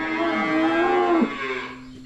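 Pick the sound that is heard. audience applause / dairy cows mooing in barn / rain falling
dairy cows mooing in barn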